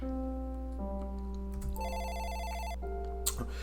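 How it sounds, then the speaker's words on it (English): A telephone gives a shrill electronic ring, with steady tonal bursts that shift in pitch and pattern across a few seconds, clear and alone with no voices. "the phone gave a shrill ring"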